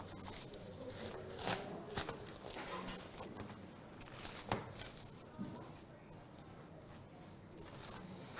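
Cling film rustles and crinkles as a wrapped breadcrumb-based food mixture is peeled open, with soft intermittent crackles and a few sharper snaps close by in a quiet kitchen.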